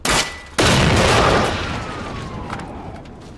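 Gunfire in the video game Generation Zero: two loud, close weapon blasts, the second one ringing out in a long echoing tail that slowly fades, with no talk.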